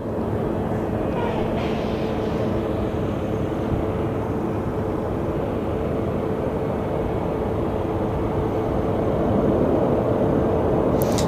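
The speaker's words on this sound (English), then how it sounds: "Look at that Dreamliner. That thing is amazing looking. It's gonna pass by our Delta gates." A Boeing 787 Dreamliner taxis past the gates at Sky Harbor Airport, a steady low engine rumble and whine holding constant at moderate distance throughout.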